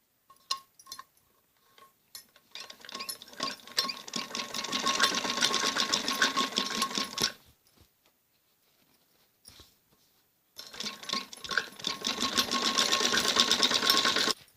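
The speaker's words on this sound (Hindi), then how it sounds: "इसमें हमें किनारे पे सिलाई लगानी होती है। जो हमने ये बुकरम छोड़ी है, ये सिलाई भी हम इससे ऊपर ही लेंगे।" A sewing machine stitches along the edge of a kameez neck strip backed with buckram in two long, close, rapid whirring runs separated by quiet pauses and a few soft clicks.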